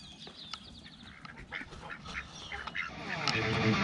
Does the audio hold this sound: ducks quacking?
yes